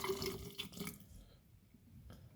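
Water pours briefly into a homemade hot sauce mixture of vinegar and Bhut Jolokia peppers, a faint splashing trickle that fades into near quiet.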